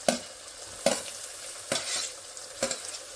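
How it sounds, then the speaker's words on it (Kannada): Tomatoes sizzle in hot oil in a pan for mushroom biryani as a spoon stirs them in four evenly spaced scraping strokes, close and clear over a steady frying hiss. "ಇವಾಗ ಟೊಮೆಟೊ ಆ್ಯಡ್ ಮಾಡ್ತಾ ಇದ್ದೀನಿ ಇದಕ್ಕೆ."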